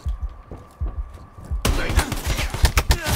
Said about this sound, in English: He got shot with a shotgun.